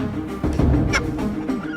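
Hens on a Victorian-era farm give a few short clucks and squawks, close and fairly loud amid a busy background of farmyard noise, with no talk over them.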